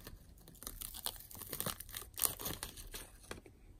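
Crepe paper is torn and crinkled close up in quiet bursts of papery rips and rustles, irregular and soft, with no talking.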